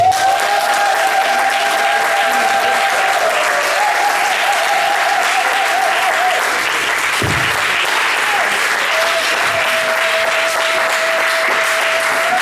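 An audience at a church seminar applauds and cheers loudly and without a break, a dense, continuous crowd clapping that fills the room.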